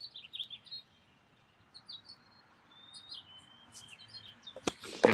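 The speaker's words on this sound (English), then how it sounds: "hopefully the camera's picking up the birds." Birds chirping at sunrise at a bushcraft camp, thin high tweets and whistled calls scattered across the scene, fairly distant, with a few louder close rustling knocks near the end.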